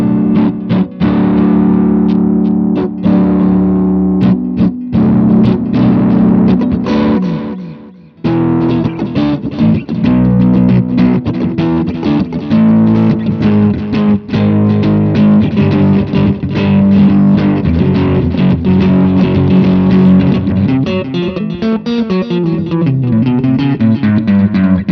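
An electric guitar played through a Line 6 Sonic Port interface with heavy distortion and chorus effects, sustained chords and riffs ringing continuously, with one short pause midway.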